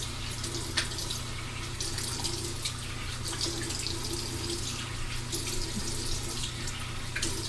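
Tap water runs steadily from a faucet into a sink while someone rinses off their face, a continuous close splashing wash with small drips and no speech.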